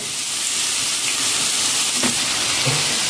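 Curry leaves hit onions frying in hot oil, producing a loud, dense, continuous hiss and sizzle that fills the short moment, with a faint clink partway through.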